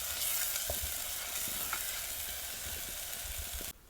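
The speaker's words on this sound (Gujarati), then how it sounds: "હવે મસાલાને આપણે ઘડી પાકવા દઈએ" Masala cooks in a pan with a steady, moderate sizzle and occasional soft stirring scrapes. It cuts off abruptly near the end, and no voice is heard.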